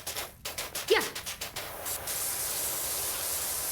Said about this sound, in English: I got the wide mode spray, so I'm down to get in there.